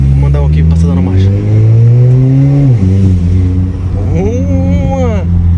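A Yamaha XT660 motorcycle revs hard and climbs through the gears, each pull rising in pitch before a quick drop at the shift, then winds up again. It is loud and close throughout, and no one speaks over it.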